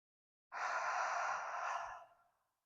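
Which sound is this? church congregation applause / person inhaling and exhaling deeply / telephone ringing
person inhaling and exhaling deeply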